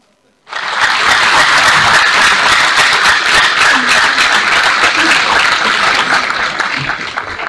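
Crowd applause welcoming the switch-on of a road program launch at a formal event, bursting in suddenly and holding as dense, even clapping from many hands until the end.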